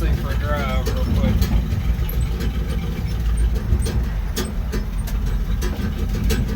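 A Jeep J20 dump truck's engine rumbles steadily while driving, a continuous low drone with a voice faintly over it.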